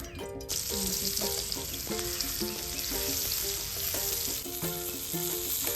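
Prawns fry in hot oil over a wood-fired stove, a loud continuous sizzle and crackle that runs the whole time, with faint melodic tones above it.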